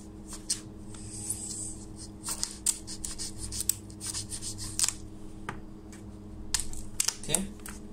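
Sharp blade slicing through double-sided tape while working on a gaming laptop, a series of quick close scraping cuts and clicks over a low steady hum, with a few words spoken.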